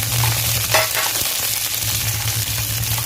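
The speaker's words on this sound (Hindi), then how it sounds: "शिमला मिर्च और प्याज को हम सौते कर लेंगे।" Capsicum and onion sauté in a pan for chicken chilli gravy, producing a steady, fairly loud sizzle with occasional stirring scrapes and a constant low hum underneath.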